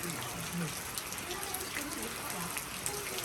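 Heavy rain pours steadily in a village in Andong, Korea, a dense constant hiss of drops close by, with voices faintly mixed underneath.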